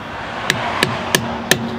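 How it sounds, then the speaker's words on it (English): A big hammer strikes a wheel lock nut on a Honda Civic EG four times in an even rhythm, each sharp metallic clank ringing briefly over quiet background. "So we got a big hammer there,"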